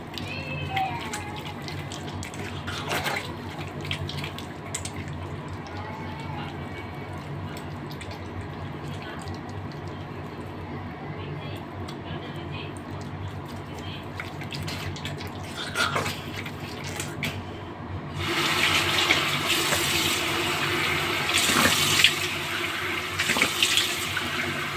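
Tap water splashes into a sink during a final face wash, starting as a low background trickle and swelling into a louder, close, rushing flow over the last several seconds.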